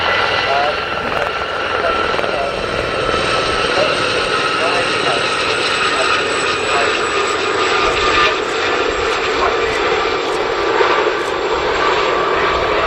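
Gazelle helicopters of a Fleet Air Arm naval air squadron fly past at the Cosford air show, a steady loud rotor and turbine drone throughout, with a commentator talking over it.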